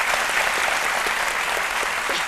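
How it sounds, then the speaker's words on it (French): A television studio audience claps hard and steadily for a model, a dense wash of applause lasting a couple of seconds. "Lynn Jabert, on applaudit très fort Lynn Jabert"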